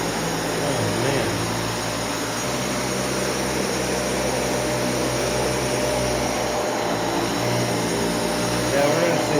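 A Dyson Cinetic Big Ball vacuum cleaner sucks up fine particles with a loud, steady, high whooshing roar running nonstop, with speech in the background.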